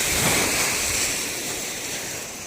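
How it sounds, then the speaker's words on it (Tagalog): Sea waves wash steadily onto the shore at Little Boracay beach in Ternate, Cavite, a continuous broadband surf roar close by, with some wind noise over the microphone and no voices. "Ang ganda ng dagat."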